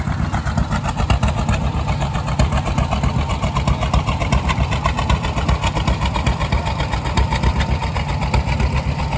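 An Allis-Chalmers WC tractor on full wheels idles at a classic tractor show, a steady, fast chugging beat throbbing evenly and close throughout with no talk over it.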